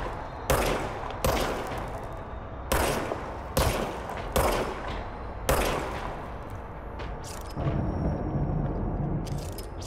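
Service weapon firing in the video game Control, sharp loud gunshots in a short uneven burst of about seven cracks with pauses between, followed by quieter ambient rumble.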